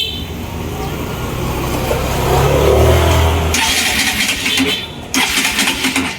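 Bajaj Rouser RS 200 Fi motorcycle with a failed fuel pump being cranked, a droning starter churning for several seconds, then harsh bursts of cranking that stop briefly and resume, loud and close.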